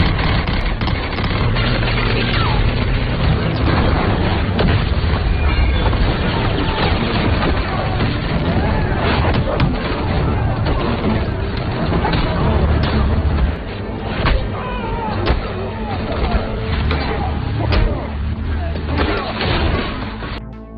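Dense film action audio, with rapid bursts of gunfire and heavy booms packed together in a constant loud barrage that eases slightly partway through.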